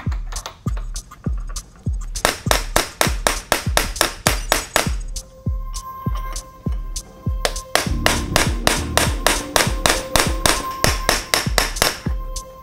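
Hammer taps a snap ring onto a bearing during a Toyota W58 five-speed transmission rebuild, with steady rhythmic metallic blows in close, even bursts and a brief pause partway through.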